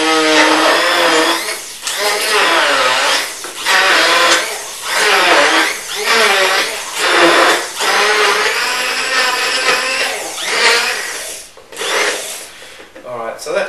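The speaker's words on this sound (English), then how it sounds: "And we'll stick the stick mixer in there." A handheld stick mixer blends 2% yogurt in a container, a loud whirring motor running in repeated bursts with brief pauses between them, close up and alone.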